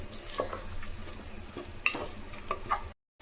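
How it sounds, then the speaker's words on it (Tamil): Chopped tomatoes cooking in a pan, a soft close sizzle with a few stirring taps and clinks, ending in a brief silence. "4 தக்காளி அதை சேர்த்துக்கலாம். ஒரு 4 நிமிஷம் தக்காளி நல்லா வேகட்டும்."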